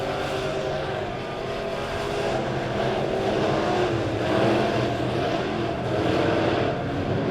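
Midwest modified race cars run heat races on the dirt track at Springfield Raceway, producing a steady, loud engine roar that swells and fades slightly as the cars circle.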